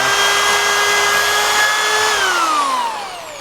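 A power drill bores through a wooden board with a loud, close, steady motor whine, then winds down in pitch as the bit breaks through and the motor slows.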